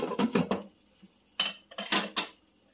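Metal lid clattering onto a cooking pot, a quick cluster of clanks followed by a second burst of rattling contacts, close and fairly loud with no speech.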